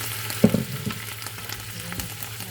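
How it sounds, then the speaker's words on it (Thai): Splash of water poured into vegetables frying in a pan, a sudden loud burst of sizzle that fades into a steady frying crackle, brief and close, no speech. "เสร็จแล้วเจ้ก็เติมน้ำลงไปนิดหน่อยนะคะ เพื่อน ๆเพื่อที่จะให้ผักสุกนะคะ"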